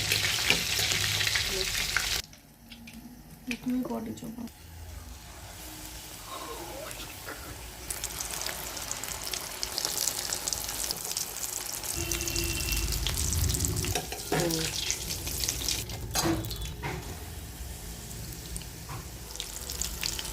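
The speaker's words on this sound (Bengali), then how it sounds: "তো আমি একবার ভেজে এটাকে একটু নামিয়ে রাখবো খানিকক্ষণের জন্য।" Food fries and is stirred in a wok with a continuous sizzle broken by scraping and clattering from stirring, a brief quieter stretch near the start, and faint running-water sounds mixed in.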